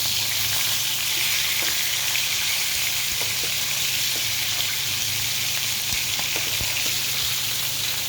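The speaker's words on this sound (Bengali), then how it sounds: "মাছটা হয়ে গেছে প্রায়, মাথাটাকে একটু বেশি ভাজবো, তুলে ফেলবো" Fish pieces and a fish head fry in oil in a pan, giving a steady, loud sizzle with occasional crackles and pops throughout, with no voices.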